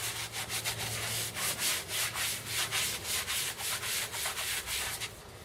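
A stiff upholstery brush scrubs an oxidized rubber floor mat on cement in fast, rhythmic back-and-forth strokes, close and loud with no talking.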